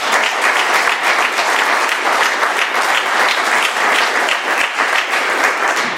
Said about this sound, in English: Let's give Kristen another round of applause